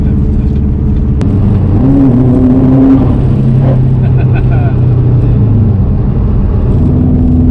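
A 407 bhp Subaru Impreza WRX engine rumbles loudly and revs up and down, with the pitch rising and falling, close by and continuous.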